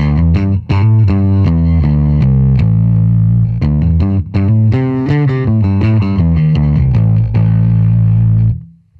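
A bass guitar played through a vintage-style distortion pedal plays a loud, thick, fuzzy riff of sustained and repeated notes, ringing out continuously before cutting off at the end.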